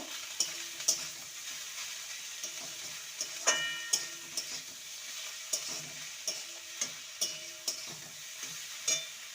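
Grated kakrol (teasel gourd) going into a pan where chillies and poppy seeds were fried, with a soft sizzle and sharp, irregular clicks of a spatula stirring and tapping against the pan, fairly quiet and with no voices.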